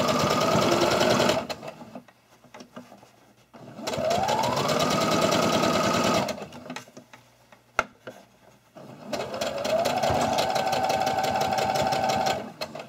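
A sewing machine stitches a cloth face mask in three bursts of rapid, buzzing whir, each a few seconds long, separated by quiet pauses with a soft click between.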